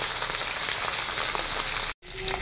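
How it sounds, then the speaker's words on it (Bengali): Fresh pond bata fish frying in hot oil in a pan, a dense continuous sizzle that cuts out abruptly for a moment near the end before resuming, with no talking. "দিয়ে মাছটাকে আমি খুব সুন্দর করে এখন ভেজে নেব।"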